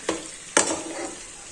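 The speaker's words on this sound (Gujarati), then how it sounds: "આ રીતના મસાલો પણ પ્રોપર રીતે તેલમાં આપણે સાતળી લેવાનો છે ગેસની ફ્લેમ છે એ સાવ સ્લો રાખવાની છે" Spice masala sautés in oil over a low gas flame for a red chili pickle, a soft continuous sizzle broken by two sharp scrapes of stirring.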